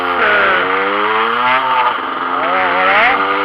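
A 2007 Derby GPR 50cc motorcycle engine runs loud and close, its buzzy two-stroke note rising and falling through light revs in a steady, continuous drone.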